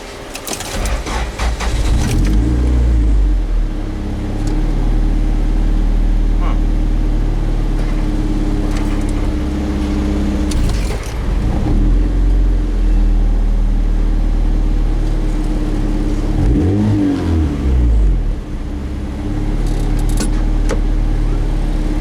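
A turbocharged Honda B20 engine drones loudly from inside the car during a ride-along, holding a steady roar with a few rising revs as it accelerates through gears.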